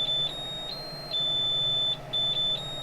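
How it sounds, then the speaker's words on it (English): Short high-pitched electronic beeps from the bed leveling sensor of a Flashforge Guider II 3D printer repeat in small clusters at an uneven rhythm over a low background hum. "So it's still beeping."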